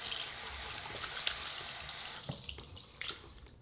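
Water runs steadily from a faucet into a sink during a nighttime skincare routine, a continuous bright hiss that eases off near the end with a few splashy drips.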